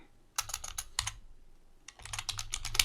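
Fingers type a file name on a computer keyboard, two bursts of quick, close key clicks separated by a short pause in a quiet room.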